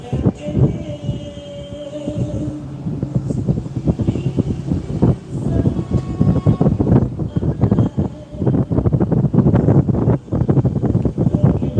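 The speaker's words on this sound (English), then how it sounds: "I might have to get out this wind, y'all." Outdoor wind blowing into the microphone, a constant, loud, low rumbling buffet with gusty surges throughout, no talk.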